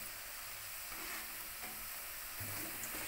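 Potato-free French fries frying in hot oil, a steady, even sizzle with soft bubbling throughout, fairly quiet and continuous with no voices.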